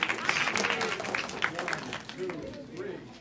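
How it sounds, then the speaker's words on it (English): An audience at a Purim celebration applauds, a dense patter of clapping running under a voice that talks over it throughout. "give them a round of applause"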